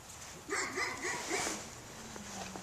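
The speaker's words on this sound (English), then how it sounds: "Pardon my neighbor's dogs." Neighboring dogs bark outdoors in a snowy backyard, a short burst of several yips and barks in quick succession, moderately distant, followed by a fainter whimper.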